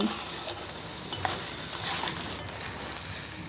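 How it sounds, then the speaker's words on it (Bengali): Mung and masoor lentils with rice sauté in a pan with salt and turmeric, producing a continuous soft frying hiss with occasional light scraping stirs, close and alone. "লবণ আর হলুদটা দিয়ে কিছুক্ষণ এটাকে কষিয়ে নেব।"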